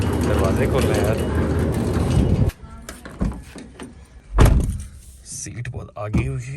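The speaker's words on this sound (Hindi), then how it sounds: "दरवाजे खोल रहे हैं" A car door opens with a loud thunk in the middle, after people talk over the engine and road noise, and more movement and talking follow.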